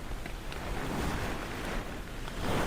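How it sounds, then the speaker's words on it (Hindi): Heavy rain falls in a mountain village while standing under a tree, a dense steady wash of broadband noise with a low rumble, continuous and fairly loud with no talking. "लेकिन बारिश बहुत ज़्यादा हो रही है।"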